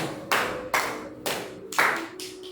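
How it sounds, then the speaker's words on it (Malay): A classroom audience in a micro-teaching session claps for a student group in four distinct short bursts separated by brief pauses, fairly close and loud. "berikan tepukan"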